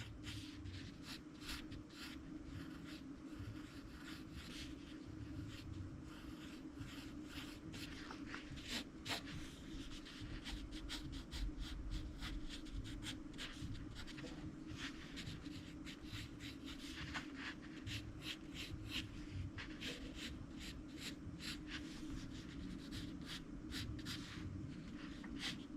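Pencil drawing animation inbetweens and a quick tie-down on paper, steady soft scratching and scribbling strokes with frequent short taps, close and quiet over a low room hum for a long stretch.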